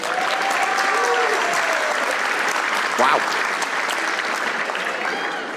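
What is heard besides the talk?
audience applause at a comedy show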